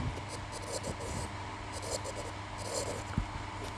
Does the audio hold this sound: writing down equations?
yes